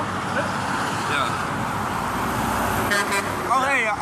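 A truck horn honks briefly near the end over steady roadway traffic noise, with people talking nearby.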